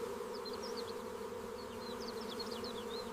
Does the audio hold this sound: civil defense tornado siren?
no